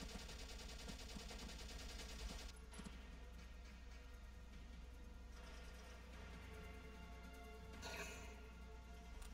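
Rapid gunfire from the video game Valkyria Chronicles, with dense, continuous bursts that run the whole stretch and loud crackling volleys swelling near the end, with no talk over it.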